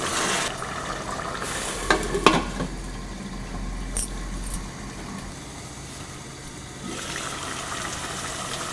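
Beef peralan, a Kerala beef dish, sizzles in a pan while being stirred, a steady frying hiss with a few scraping clinks from the utensil, close and moderately loud, without voices.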